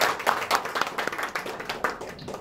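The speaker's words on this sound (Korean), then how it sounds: "박수로 환영해 주시죠." Audience applause at a symposium on presidential leadership, welcoming the dean of Sungkyunkwan University's Graduate School of Governance: a steady patter of many hands clapping, fairly close and sustained throughout, with no talk over it.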